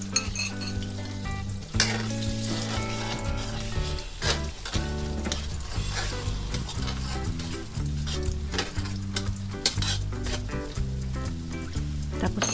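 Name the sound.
stirring egg frying in a pan for fried rice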